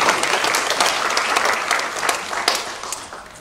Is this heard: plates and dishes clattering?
no